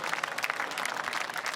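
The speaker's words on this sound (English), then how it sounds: "One final round of applause then for those guys." Brief, fairly faint crowd applause for the drivers at the Bathurst 12 Hour motor race, a steady patter of clapping heard from a distance.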